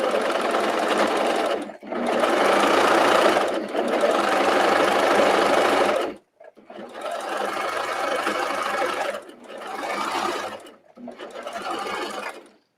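A sewing machine stitching a knit top runs in several long stretches of rapid, steady mechanical chatter, close and loud, broken by brief pauses of silence between runs.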